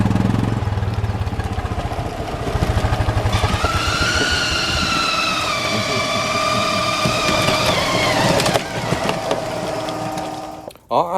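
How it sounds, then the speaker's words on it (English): Golf cart engine running as the cart drives on a cold, wet road near Vermillion Lake, a steady close motor hum that rises in pitch midway, then cuts out near the end. "I apologize for the noise that the golf cart's going to make"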